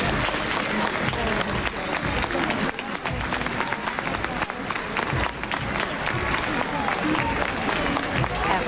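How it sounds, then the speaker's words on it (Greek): Refugees in Trikala applauding a military parade, a dense, sustained wall of crowd clapping with cheers mixed in, loud and continuous throughout, with voices in the crowd. "οι πρόσφυγες που υπήρχαν στα Τρίκαλα τους χειροκρότησαν"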